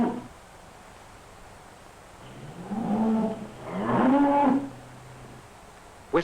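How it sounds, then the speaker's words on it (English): Milk cows low inside a barn, two drawn-out moos rising and falling one after the other, fairly close and clear over a quiet, steady background hum. "Father is feeding the milk cows"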